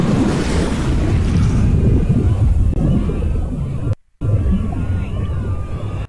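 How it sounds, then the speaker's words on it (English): Sound design effect of seawater rushing and filling up between the broken parts of the sinking Titanic: loud, continuous surging wash and turbulent roar, with a brief cut to silence partway through. "gives it a beautiful transition to the next shot of the water filling up between the broken parts"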